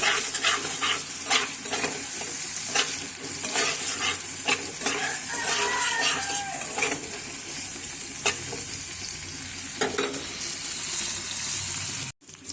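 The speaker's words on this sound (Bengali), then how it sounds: "আমি চিংড়ি মাছটা এখন উল্টে নিব ভালোভাবে। দুই দিকেই ভাজা হবে।" Small shrimp sizzle and crackle steadily in hot oil, with occasional scraping and clinking as a utensil stirs and turns them in the pan.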